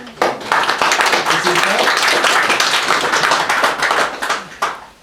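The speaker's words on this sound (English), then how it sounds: "Big round of applause, please." A room of guests at a UKIP event in Worcester breaks into loud, dense applause that starts abruptly and holds steady for several seconds before tapering off, with no voices over it.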